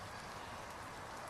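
Steady rain falls through the night at an outdoor site, a continuous soft hiss of drops on surfaces, faint and even throughout with no voices.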